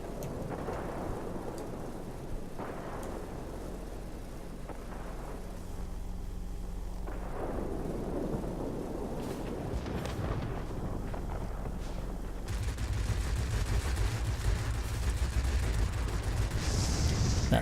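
Bombs from a Blenheim bomber in World of Warplanes go off as deep, rumbling booms that roll in at about 2.5 and 7.5 seconds. They sit over a steady engine drone, and near the end the drone turns harsher and louder.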